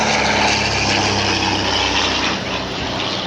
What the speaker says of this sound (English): But a much throatier sound from the Anson.